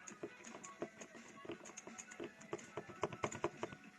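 Sanwa arcade stick and buttons on an original 1up arcade cabinet being worked, giving a steady run of sharp plastic clicks and clacks, close and fairly faint, with no talking.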